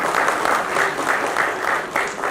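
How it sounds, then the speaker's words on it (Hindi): Loud, steady applause from an audience welcoming two hosts at a National Youth Awardees Federation youth festival event, dense clapping sustained throughout with a crowd texture. "दोनों का जोरदार ताली से स्वागत कीजिएगा"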